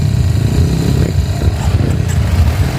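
A Kawasaki enduro motorcycle engine rumbles close and continuously with a choppy, pulsing low-pitched exhaust note that varies slightly in intensity, with no voices over it.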